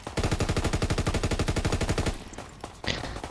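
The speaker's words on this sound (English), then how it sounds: "Mount the LMG. Shoot a few shots." A mounted LMG in Call of Duty WW2 fires a loud, rapid burst of about two seconds, then cuts off, leaving brief echoing tail sounds and a short clatter.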